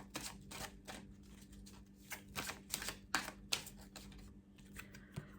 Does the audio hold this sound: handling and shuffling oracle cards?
yes